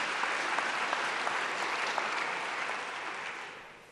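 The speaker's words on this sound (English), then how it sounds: "I think we should give them all a round of applause" Conference audience applauding steadily, a dense wash of clapping that holds at an even level and then fades out over the last second.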